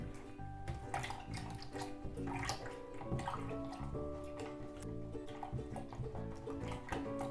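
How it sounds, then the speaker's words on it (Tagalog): Milk is poured into a pot for vanilla pudding, making a continuous burbling liquid stream with small splashes that lasts the whole stretch at moderate level, with no talking. "Dagdagan natin ng milk. Hanggang 1 litro siya mga loves."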